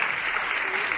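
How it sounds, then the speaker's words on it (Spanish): Short burst of audience applause at the close of a talk event, steady and dense for about a second at moderate level, with no voices over it. "Un aplauso"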